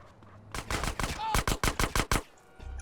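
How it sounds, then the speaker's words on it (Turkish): Uzi gunfire in Grand Theft Auto: San Andreas, a close, loud burst of about a dozen rapid shots in quick succession, with game sounds around it. "Bir Uzi sesi duydum zaten önden"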